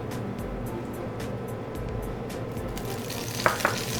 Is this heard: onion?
yes